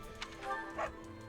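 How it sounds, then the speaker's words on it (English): A dog in the video game Fire Emblem: Three Houses gives a few short, light barks over a steady tonal game background, with nobody speaking. "Try to talk to the dog"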